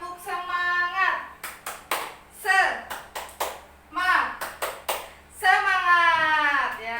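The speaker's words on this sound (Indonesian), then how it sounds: "Coba diulangi, harus yang kompak ya. Yo, 1, 2, 3. Tepuk semangat." A classroom of children doing a rhythmic group clap, sharp synchronized hand claps in a patterned sequence, close and bright, with children's voices chanting between the claps.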